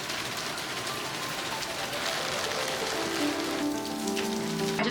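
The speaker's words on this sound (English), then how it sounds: "Raining a lot, there's a lot of wind." Heavy rain pounding on surfaces while wind blows, a dense, continuous hiss of drops that stays steady and loud throughout, with a faint low hum emerging toward the end.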